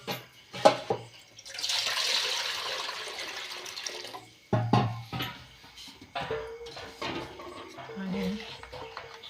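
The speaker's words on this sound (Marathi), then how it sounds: "आता आपण का नाही ह्या पातेल्यात पाणी घ्यायचं" Water splashes and pours into a metal cooking pot in a home kitchen, with bursts of running water, clanks of the vessel and a speaking voice over parts of it.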